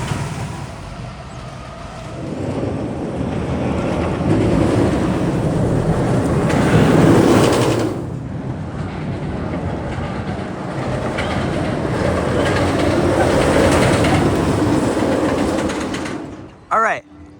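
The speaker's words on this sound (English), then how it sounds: "Now we're riding the Samson Monster Track." Steady rumbling roll of the Samson Monster Track roller coaster at Fun Spot Atlanta, loud and continuous with clattering track noise, a brief dip midway and a sharp knock near the end.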